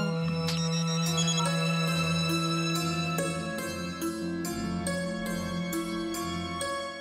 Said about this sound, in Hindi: जतिन सेठ का फोन है ना?